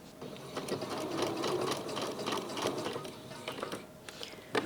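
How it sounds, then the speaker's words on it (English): A sewing machine runs steadily, stitching along a line near the end of a trouser waistband, its motor and needle chatter continuous and close, with a brief clack at the finish. "start sewing on that line close to where the pant finishes."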